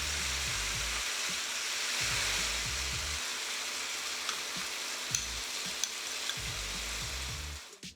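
Kung pao chicken and its cornflour-thickened sauce sizzling loudly in a pan, a dense continuous fry with rhythmic low thumps from tossing and a few sharp metallic ticks of a utensil.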